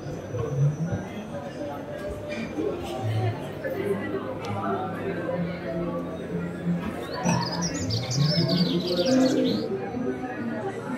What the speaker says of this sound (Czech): Já slyším i ty ptáky